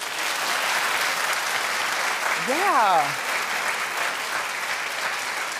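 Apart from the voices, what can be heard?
studio audience clapping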